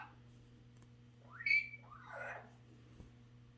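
A blue-fronted Amazon parrot gives two short whistles, a rising note then a falling one, over a low steady hum in a quiet room.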